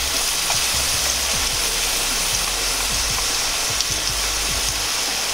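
Aromatics stir-frying in a tablespoon of oil in a frying pan for chicken in chili sauce, a steady dense sizzle with occasional soft stirring scrapes, close and continuous.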